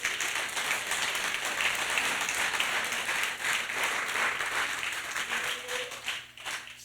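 A church congregation breaks into sustained applause, a dense roomful of clapping that holds steady for several seconds and then thins out toward the end.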